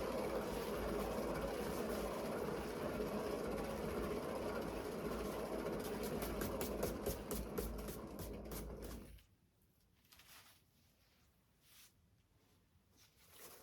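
An acrylic pour canvas spinning on a turntable gives a steady whirring mechanical drone that runs for about nine seconds, turns into rapid clicking pulses and then cuts out, leaving faint ticks and handling noise.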